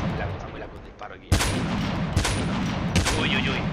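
Gunfire in an online ranked battle-royale shooter match: a series of sharp loud shots with ringing tails, starting after a quieter stretch and repeating roughly every second, over a steady game background.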